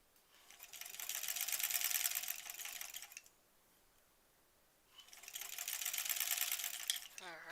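A sewing machine stitches a Double Dutch quilt block in two steady runs of rapid, even mechanical whirring, each about three seconds long with a quiet pause between, close and clear with no talk.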